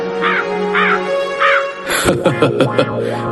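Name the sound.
crow cawing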